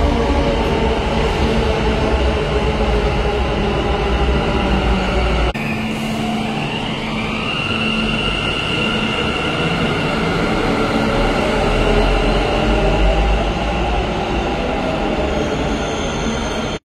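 A Bangalore metro train runs with a loud, steady rumble of wheels on rail, and a rising motor whine climbs partway through as it picks up speed. No voices are heard.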